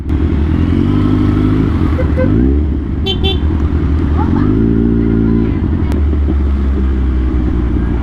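A motorcycle rides along a provincial road at Lobo, Laguna, its engine droning loudly and steadily throughout, with a brief rev change, a short horn toot and a voice talking over it.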